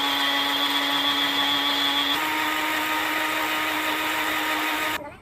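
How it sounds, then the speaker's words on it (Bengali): An electric blender whirs steadily at high speed blending a chili with about half a cup of water, its motor tone dropping slightly midway before cutting off at the end. "একটা লঙ্কা দিয়ে দিলাম, আধা কাপ মতো জল, তারপরে ঢাকা দিয়ে আমি ভালোভাবে ব্লেন্ড করে নিচ্ছি।"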